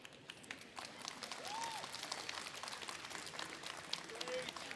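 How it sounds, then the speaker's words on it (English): Conference audience gives scattered, moderate applause at a business talk, distant-sounding clapping with a brief whoop or whistle partway through and a murmur of voices beneath. "I want every company leader to hear those applause"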